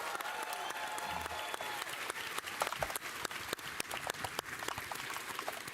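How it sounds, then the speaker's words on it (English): An audience gives a sustained round of applause for a performer named Renee, a steady wash of many hands clapping with sharper individual claps standing out throughout. "please give Renee a round of applause"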